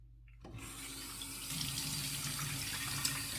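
A tap turns on and runs steadily into a sink during shaving preparation, a close, even rush of water that starts suddenly after a brief quiet moment.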